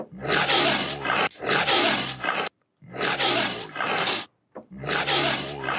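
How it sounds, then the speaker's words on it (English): Four deep, rough lion growls in a row from a creature sound design instrument, loud and close, each lasting about a second with short gaps between them. "Or we can add in some lion growls."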